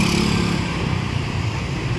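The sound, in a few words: passing vehicle, motorcycle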